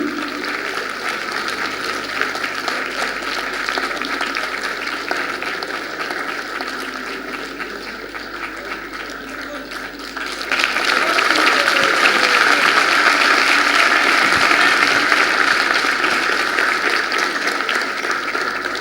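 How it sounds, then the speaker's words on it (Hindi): Sustained audience applause for a theatre play's director, a dense wash of clapping that swells noticeably louder about halfway through and stays strong to the end. "जोरदार तालियां राजनारायण के लिए।"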